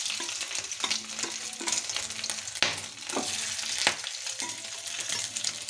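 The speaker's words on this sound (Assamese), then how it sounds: "মই এতিয়া গাহৰি মাংসখিনি এক পিচ কৰি কেৰাহীত দিম, তেল ওলাব দিম।" Pork pieces frying in oil in a kadai, a continuous crackling sizzle with occasional stirring scrapes and a couple of sharper pops, moderately close and without talk.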